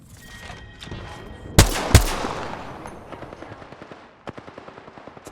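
Automatic gunfire in the PC shooter Apex Legends, two sharp loud shots followed by a rapid stuttering burst that tapers into quieter rattling rounds, with faint game noise between them.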